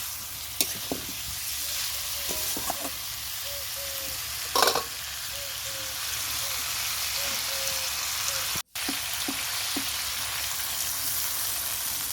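Fish curry masala sizzles and fries in a pan, a dense continuous crackle with occasional scraping stirs and clicks, close and fairly loud, with no talking.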